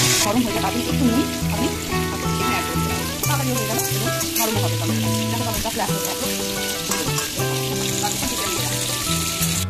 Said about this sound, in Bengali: এরপর আমি টমেটোগুলো তেলের মধ্যে ছেড়ে দিলাম।